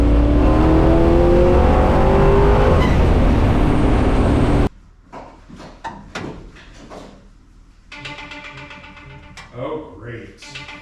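A 670 hp small-block 1964 Buick Special is heard from inside the car: a loud, steady engine roar for the first few seconds, then it drops away abruptly, leaving quieter clunks, rattles and a voice speaking.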